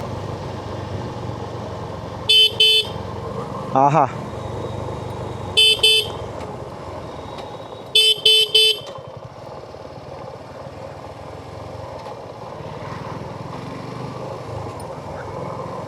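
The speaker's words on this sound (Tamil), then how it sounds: "இப்போ நான் ஹார்ன் அடித்தேன், அவர் ரொம்ப தூரத்துலேருந்து அவர் ஹார்ன் அடித்தார்." Vehicle horns honk on a hilly road trip from Anaikatti to Mannarkkad. Several short, sharp blasts, some doubled and some in quick triple bursts, stand out over a low engine rumble and quiet road noise.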